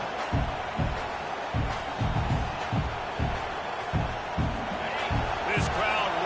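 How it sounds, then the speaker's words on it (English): Football stadium crowd at an LSU game roaring as it rises to back its defense, a dense, steady wash of cheering with repeated low thumps and stomps, under talk. "This crowd rising up, sensing that its defense needs some help."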